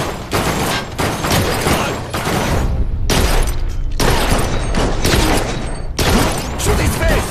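Loud, close bursts of rapid gunfire rattle on for several seconds at a time, broken by brief pauses, in a dense and continuous barrage.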